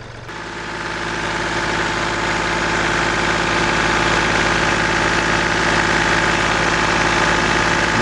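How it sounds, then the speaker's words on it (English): A Kia engine idles with its revs being raised during DPF pressure sensor testing, a loud, close, steady hum and rumble that swells within the first second and then holds even, with no talking. "We'll bring the idle up."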